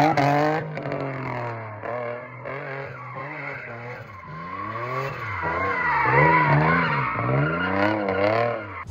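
A Nissan G35 drift car with a welded differential: engine revs and wails in long rising and falling sweeps while tires squeal continuously, loud and close, sliding sideways through repeated drifts.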